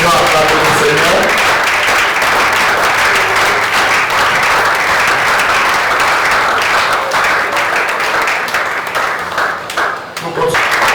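A church congregation applauds steadily and loudly through a worship service held in mourning, with sustained dense clapping and voices mixed in, tapering slightly near the end.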